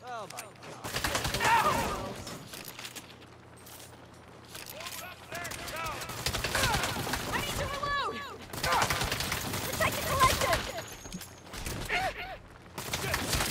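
Frequent bursts of automatic gunfire and single shots from the video game Saints Row, loud and sharp, mixed with game voices and people talking over the action.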